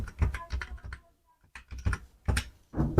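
Rapid bursts of keyboard keys clack close by as a phone number is typed into an online form, grouped into quick runs separated by short pauses.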